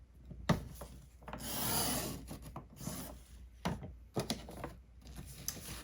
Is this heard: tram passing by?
no